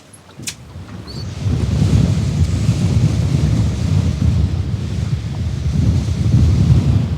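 Strong wind at sea roars steadily against the microphone aboard a fishing boat after a brief quieter start, a dense low rumble with no voices.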